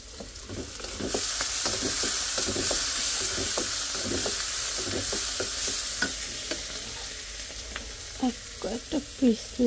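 Pieces of fish cooking in a hot pan, a continuous loud sizzle and hiss with repeated spatula scrapes and light taps, growing busier toward the end.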